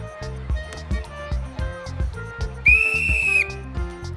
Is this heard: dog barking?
no